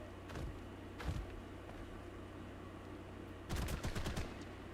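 A gun firing until it runs dry in Ark: Fjordur, heard as a few quiet scattered shots early, then a short rapid cluster near the end over a steady low hum.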